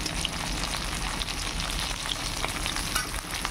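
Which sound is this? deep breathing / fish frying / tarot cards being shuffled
fish frying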